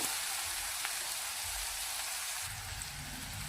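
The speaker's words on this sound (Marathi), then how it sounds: "काळा मसाला, हे मिश्रण आपण बारीक गॅसवरती परतून घेऊया" Kala masala spice mixture with salt sizzling in oil while sautéed on a low gas flame for rajma masala, a steady continuous hiss throughout with a slight low rumble toward the end, no talking.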